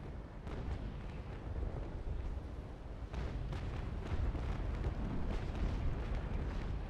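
Ship cannons firing in a Naval Action port battle at Macao, a dense continuous barrage of booming broadside shots layered over each other, loud and rumbling throughout without talk.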